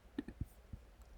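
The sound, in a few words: computer mouse click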